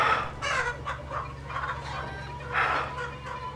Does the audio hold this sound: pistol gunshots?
no